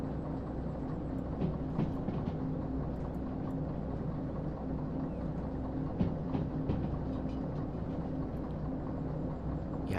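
A diesel locomotive in the game Derail Valley labors up a steep hill, its deep engine drone steady and loud throughout, with faint rail clicks and rattles layered on top.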